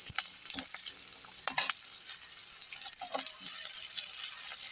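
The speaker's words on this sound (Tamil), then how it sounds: "சின்ன வெங்காயம் போட்டுக்கலாம்" Shallots frying in a pan, sharp steady sizzle with a broadband hiss throughout and occasional stirring scrapes and clicks of a utensil against the pan.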